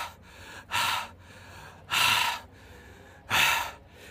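Heavy, breathy gasps after an ice bath in cold winter water, three loud, forceful breaths spaced about a second apart, close to the listener with quiet pauses between.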